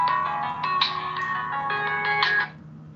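A phone rings with an incoming verification call, playing a steady electronic ringtone melody of repeated bright tones that runs for over two seconds before cutting off, close and clear with no talk.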